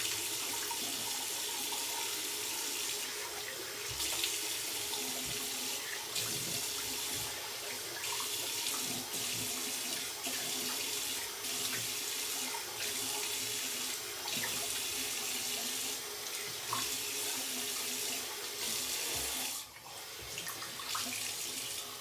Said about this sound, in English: Rinse that off a bit.